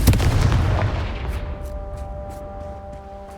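A Confringo fire spell blast from Hogwarts Legacy lands as one loud, deep boom at the start and then rumbles away into a fading tail, with a faint musical hum underneath.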